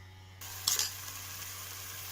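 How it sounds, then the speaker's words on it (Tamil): Kurma masala for a pea and vegetable kurma fries in oil, a steady soft hiss with one brief louder sizzle burst near the start, then an even low background. "இது நல்லா ஃப்ரை ஆகட்டும்."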